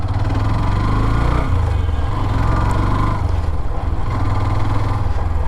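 A Hero Xtreme 125R motorcycle engine runs loud and close with a steady, rough, low mechanical drone that holds constant throughout.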